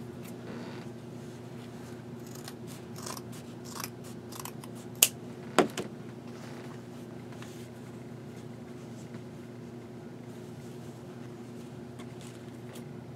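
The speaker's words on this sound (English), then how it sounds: "And then I'm going to cut some of these other pieces." Scissors snipping through denim pieces for a traveler's notebook cover, with a couple of sharp close cuts standing out over a steady low hum and faint scattered rustling.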